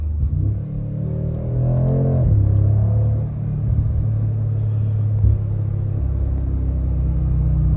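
A Mercedes-AMG G63 SUV's engine rumbles deep and steady from inside the cabin at quarter throttle, with a brief rise in revs early on before settling into a continuous low drone.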